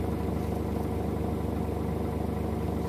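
A 2017 Scania R450 truck's diesel engine idles steadily during exhaust filter cleaning, a close, constant low rumble with an even throb and no change in pace.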